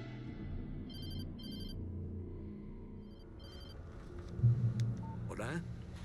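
An in-game telephone rings in Alan Wake Remastered, with short repeated electronic ring bursts over a low rumbling background, then a brief tone and a muffled thump, with speech present.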